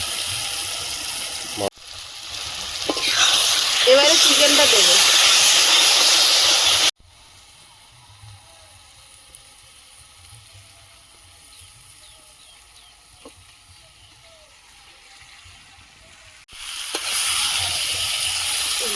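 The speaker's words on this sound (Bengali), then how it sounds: "মশলার কানা দিয়ে তেল ছেড়েছে এবারে চিকেনটা দিয়ে দেবো" Chicken added to hot oil and spices in a pan: a loud, sharp sizzle bursts up, hisses steadily for several seconds, then cuts away to quieter background before another hiss returns.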